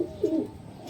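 A single soft, low coo from a desi high-flyer pigeon in a loft, brief and close, with a faint murmur of background noise around it.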